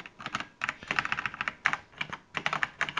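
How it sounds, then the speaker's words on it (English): Fingers type on a computer keyboard in quick irregular bursts of crisp clicks, close and clear with brief pauses between runs of keystrokes. "we got a bit of typing then"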